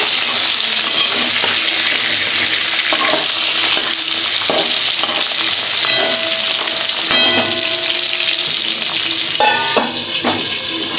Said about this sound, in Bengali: বোয়াল মাছ খুব ফুটে এবার আমি একটু ঢেকে দেবো